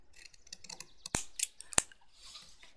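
Two crisp, loud snips of scissors cutting through ribbon while tying a bow, spaced about half a second apart, with quieter handling rustles before and after.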